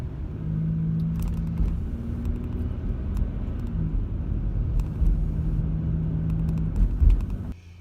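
Car interior on a drive through Minneapolis traffic, a loud steady low engine and road rumble with faint hums and ticks throughout, cutting off abruptly at the end.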